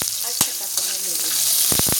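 Garlic, onion and ginger aromatics for fish adobo sizzling steadily in a hot pan, with a few sharp scraping knocks of stirring over the continuous fry.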